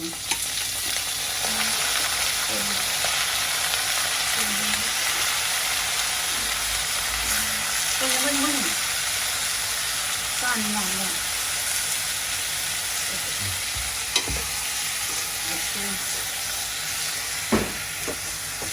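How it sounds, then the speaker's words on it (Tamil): Squid sautéing in a hot pan gives a loud, continuous sizzle, broken by scraping ladle strokes as it is stirred, with a couple of sharp clanks near the end. "இப்போ கனவா கரண்டியால் அள்ளி போடுங்க"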